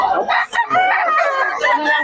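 A rooster crows loudly and close by at a Filipino gamefowl sale, a sustained, harsh cock-a-doodle-doo with a brief dip midway, over faint background murmur.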